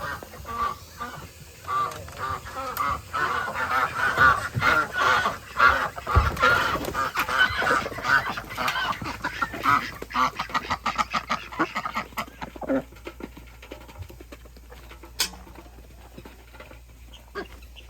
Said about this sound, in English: That's the ducks.